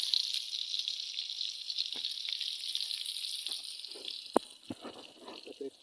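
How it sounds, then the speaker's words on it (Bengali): Onions and chillies frying in a pan for noodles, a bright continuous sizzle with a few clicks and a sharp knock near the end, close by. "এবার দেওয়া হচ্ছে পেঁয়াজ এবং মরিচ।"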